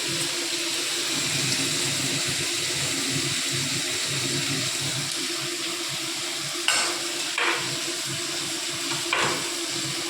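Fish sizzles steadily in a frying pan, a continuous close hiss of hot oil, broken by a few sharp clinks of a utensil against the pan near the end.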